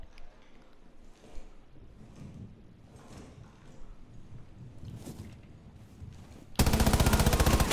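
Gunfire erupts in a tactical shooter at the Hereford base map, a loud, dense automatic burst arriving near the end after a stretch of quieter background game noise.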